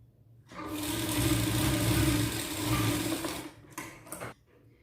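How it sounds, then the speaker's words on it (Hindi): Sewing machine stitching a seam on a blouse, running in one loud, steady whirring burst of about three seconds, followed by two short stitching spurts before stopping, with no talking. "तो पहले आप सीधी तरफ एक सिलाई ले लीजिए।"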